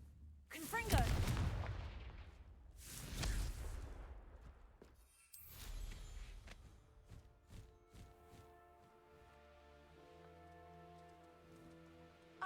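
Confringo fire spells blast in Hogwarts Legacy: two loud, booming bursts close together, a third sharper crack a moment later, then a quieter tonal game ambience lingers afterward.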